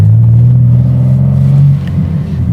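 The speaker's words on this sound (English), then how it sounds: "shift down a gear, open the window a little bit, and experience exactly this" A BMW engine idling low and rumbling after a downshift in manual mode, a loud steady drone with a deep tone that eases slightly near the end, no talk.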